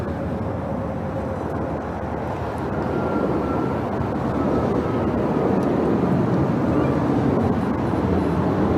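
A United Airlines Boeing 737 MAX 9 taking off, a broad roaring engine rumble heard from a distance that swells gradually louder and steadier over several seconds.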